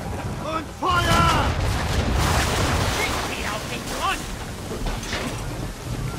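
Ship cannons firing in Assassin's Creed 3 on Xbox 360: a sudden booming blast followed by a sustained rumble, with someone speaking over the action.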